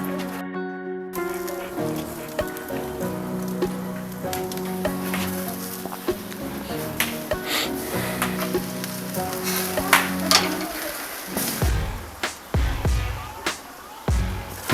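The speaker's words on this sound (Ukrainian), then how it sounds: "Починаємо смажити." Shashlik of meaty ribs sizzles and crackles over a fire's embers, with soft pops and hisses that grow more frequent toward the end, amid faint background music.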